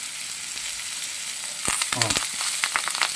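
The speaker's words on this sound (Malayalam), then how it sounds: "ഇനി നമുക്ക് മിച്ചമുള്ള എണ്ണയ്ക്കകത്ത് ചുവന്നുള്ളി നമുക്ക് വറുത്തെടുക്കാം" Shallots and curry leaves hit leftover hot oil for a Kerala-style chicken stew, giving a steady close sizzle that bursts into louder crackling and spitting as they go in, with stirring sounds after.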